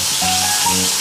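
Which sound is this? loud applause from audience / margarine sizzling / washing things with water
margarine sizzling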